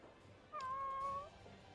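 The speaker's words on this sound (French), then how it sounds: "le chat, il a fait miaou" A single cat meows once in a game scene, a clear, fairly loud tonal cry lasting under a second, with no talking around it.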